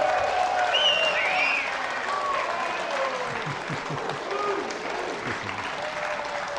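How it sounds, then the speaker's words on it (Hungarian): Applause from a crowd at a blues festival award presentation, steady dense clapping across the whole stretch, with some faint voices and tones mixed underneath. "egy nagy tapsot"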